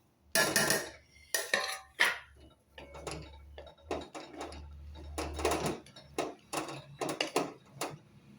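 Masala going into mango sweet pickle in a pot, heard as a series of sharp metallic clinks and scrapes of a spoon against the vessel, irregular and close, with quiet pauses between strokes.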